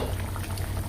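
A pot of broad bean and brinjal kara kuzhambu, a spicy Tamil curry, bubbles at a steady boil. The simmering hiss and gurgle is close and continuous throughout.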